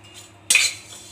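Fennel seeds stirred in a pan over high flame while roasting, a single brief metallic scrape of the spoon against the pan, near and fairly loud, over a quiet background.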